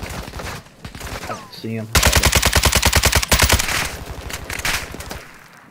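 Rapid automatic gunfire strikes around the player in a team-based shooter video game, a dense burst of sharp cracks that tails into scattered shots, with players talking over it.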